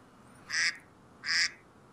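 Two short, nasal duck quacks from a game sound effect, evenly spaced about three-quarters of a second apart, clear and close against a quiet background.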